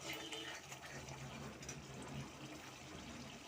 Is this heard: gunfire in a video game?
no